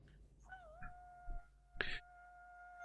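A human voice imitates a werewolf howl, rising and wavering as a long sustained wail, with a few soft knocks and a short burst of noise partway through.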